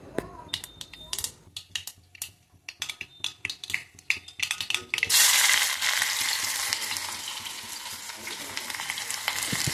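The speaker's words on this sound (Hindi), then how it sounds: "मैं यहाँ कद्दू बना रही थी, तो मैं राइस से तड़का देकर बनाती हूँ" Oil sizzles loudly as spices hit the pan for tempering pumpkin, then a steady, dense frying hiss takes over after a few sharp crackles and clinks at the start.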